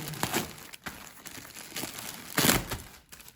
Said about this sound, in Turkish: Bir de şu paketi açalım.